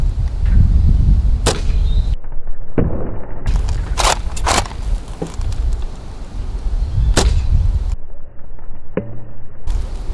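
Several sharp snaps of a Nerf X-Shot Longshot dart blaster firing foam darts at a target, each a quick crisp burst standing out over steady outdoor background noise.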